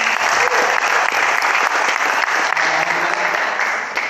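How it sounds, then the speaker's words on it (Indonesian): Steady, loud audience applause for Yasmin at an event, dense clapping that continues evenly for several seconds before easing slightly at the end. "Oke teman-teman, kasih aplaus buat Yasmin"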